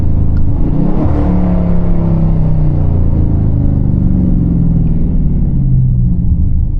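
A loud tuned catless 392 Scat Pack accelerating hard, its engine note rising in pitch through the gears in one continuous, strong pull with no talking.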